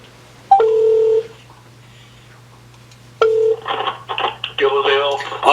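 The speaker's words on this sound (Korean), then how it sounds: "선생님께 전화를 한번 드려볼게요" Two short bursts of telephone dial tones as a call is placed, each a brief steady beep with a quiet pause between, followed by a voice talking over the line.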